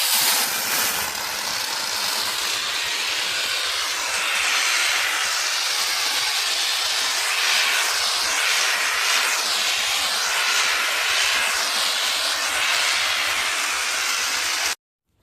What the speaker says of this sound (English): the final step to creating this target box is just using the expandable foam